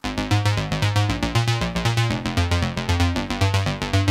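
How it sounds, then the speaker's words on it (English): Chords from a Roland Juno 60 synthesizer swell in a wide chorus shimmer, bright rhythmic stabs pulsing evenly over a thin low end, heard alone and fairly close. "And the Juno 60 sounds like this."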